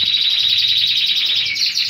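A caged canary sings loud and close in a continuous run of rapid, bright trills and chirps, with no pause.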